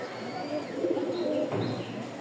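Flying pigeons of the Rajshahi breed kept for sale, including a laying pair, coo softly and continuously at close range, a low murmuring warble across the whole stretch with faint chirps above.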